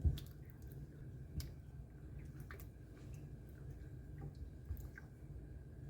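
Soft wet squelching and sticky squishes as a thick chicken changezi curry mixture is stirred, with occasional small clicks, quiet and close.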